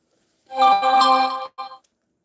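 A phone ringtone sounds once, a short, close, melodic tone lasting about a second followed by a brief second note, with silence around it.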